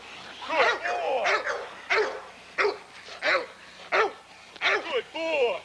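Pit bull dogs bark close and loud in a series of about seven sharp, evenly spaced barks, with brief pauses between them.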